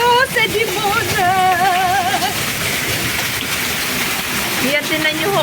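Hail pelting down hard during a storm, a dense steady roar of ice striking surfaces, with people talking over it throughout.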